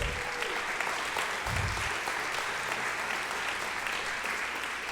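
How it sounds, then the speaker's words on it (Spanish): Church congregation applauding Jesus during a sermon on Revelation: steady, dense clapping from a large crowd fills the whole stretch at an even level, with a low thump partway through. "dale un fuerte aplauso a Jesús"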